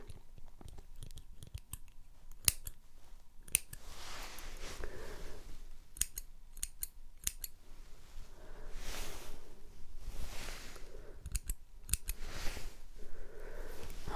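Scissors snip hair close up in a quiet ASMR medical exam setting, a series of sharp crisp cuts in irregular clusters over soft rustling, with no talking.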